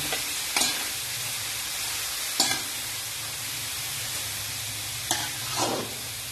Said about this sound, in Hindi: इस तरह चमचा चलाते रहना